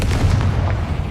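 A Confringo spell explosion in the video game Hogwarts Legacy, one loud deep booming blast with a rumbling low tail across the whole short burst.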